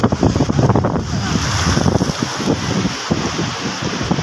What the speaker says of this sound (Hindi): बहुत ही प्यारी लहरें आ रही हैं।